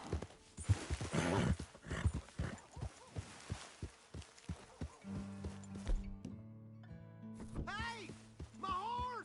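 Horse hooves clip-clop at a steady walking pace in the Red Dead Redemption 2 video game, fairly faint under game music and a voice, with a short whinny-like sound near the end.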